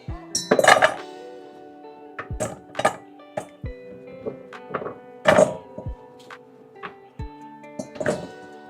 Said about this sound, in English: Then we're going to take all our veggies and add it to a bowl.